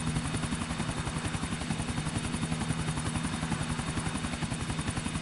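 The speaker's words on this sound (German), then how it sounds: "Blöder Helikopter!" A helicopter in the video game GTA IV sends out a steady, loud rotor thump with constant pulsing chops throughout and no voices.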